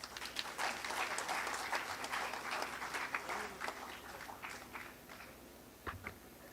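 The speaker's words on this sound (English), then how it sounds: "Huge round of applause." Faint applause from an audience at an educational institution address, a dense patter of clapping that tapers off, with scattered sharp claps near the end.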